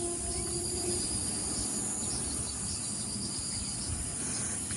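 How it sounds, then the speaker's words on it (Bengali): Steady chirring insect chorus, likely grasshoppers or crickets, fills a rainy field, a dense continuous buzz with soft rain-like hiss beneath and no voices. "দেখো কত ফড়িং উঠছে দেখো"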